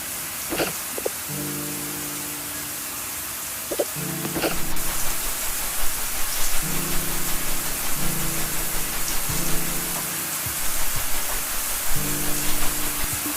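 A steady wash of running bath water, like a tap filling a tub, keeps up throughout as a soft, even hiss, with a gentle looping tonal melody playing over it.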